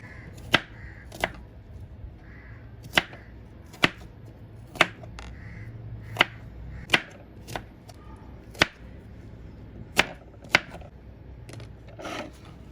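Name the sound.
onions being chopped in a manual hand chopper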